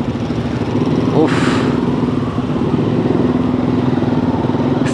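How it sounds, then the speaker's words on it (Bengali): Motorcycles of a ten-bike group pull away from a checkpoint on the road to Sajek in Bangladesh, a steady close engine drone with brief clatter and a short rev burst near the start. "আগে বাইকগুলো ছাড়তেছে।"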